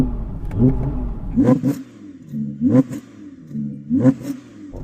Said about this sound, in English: let's rev up the engines and do the Carwow sound check